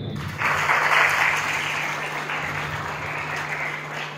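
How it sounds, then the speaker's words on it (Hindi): A crowd at a Republic Day celebration at a girls' gurukul school in Julana welcomes guests with applause that starts suddenly, swells, then settles into steady clapping over a low electrical hum. "तालियों के साथ स्वागत करें।"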